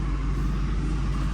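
A Mercedes SL500 fitted with a coilover conversion drives along, a steady low engine and road rumble heard from inside, constant and fairly loud.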